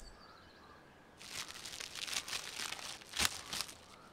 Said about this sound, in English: When you eat it, it actually makes the sound of you opening a package and eating a cookie.